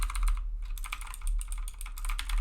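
Fast typing on a 60% computer keyboard, close and steady clacking of keys with a short pause near the start and no talking.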